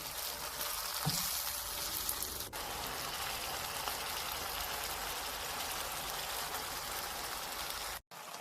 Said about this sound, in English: Add 3 chopped tomatoes to the onion mixture and braise for about 10